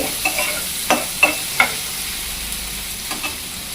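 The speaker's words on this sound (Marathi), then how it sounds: "एक बारीक चिरलेले टोमॅटो सुद्धा परतून घेऊया" Finely chopped tomato sautés with onion in a pan, a soft steady sizzle punctuated by several brief spoon scrapes and taps against the pan in the first couple of seconds.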